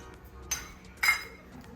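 A metal kadai set down on a kitchen stove, two sharp clinks about half a second apart, close and clear against a quiet background.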